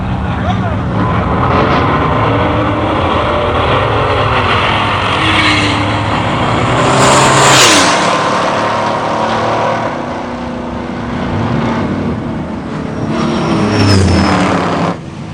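Engines of a 1970 Buick GS and a Buick Grand National at a muscle car drag race, a loud continuous roar that rises and swells through the run, mixed with crowd noise and voices nearby.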